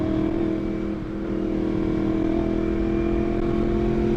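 A first-generation Yamaha MT-10 motorcycle engine pulls hard under acceleration on the road, a steady, loud, rising tonal drone recorded close from the rider's position, with wind noise and no talking.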